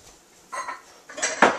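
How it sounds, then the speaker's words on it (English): A kitchen bowl is picked up and set down on a counter in a raw-food prep setting, giving a few close, clattering dish knocks with a sharper clink at the end. "I'm going to take a nice sized bowl"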